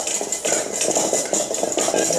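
Something being mixed around in a container, with steady scraping and clinking like a utensil against the sides, close and continuous with a rhythmic stirring pattern.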